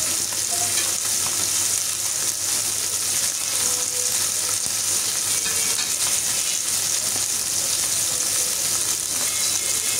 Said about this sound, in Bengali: তেল দিয়ে এখন আমি মাছগুলো দিয়ে দিলাম। মাছগুলো আমি খুব মুচমুচে করে ভেজে নিব।